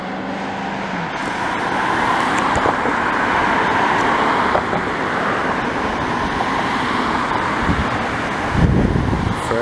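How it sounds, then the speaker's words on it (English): Friday afternoon street traffic on a city boulevard in Longueuil, Quebec, with a continuous roar of passing cars and a bus, wind buffeting the microphone, and a heavier vehicle swelling close by near the end. "Friday afternoon traffic."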